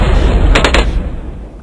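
Cannon towers fire in the Bloons Tower Defense video game. Several quick, loud booms come in close succession over a constant rumbling background.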